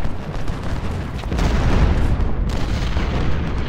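Cannon fire rumbles in the Civil War strategy game Ultimate General, a dense, continuous barrage of booming artillery blasts that swells louder partway through, with no voices.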